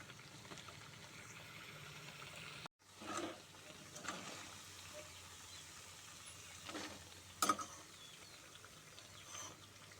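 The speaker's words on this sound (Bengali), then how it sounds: "এই দেখো, এমন করে ভেজে নিতে হবে ডালটা।" Lentil fritters for motichur laddu frying in oil, a steady low sizzle with a sudden gap near the start and a few brief sharper pops and clatters, fairly quiet with no talk.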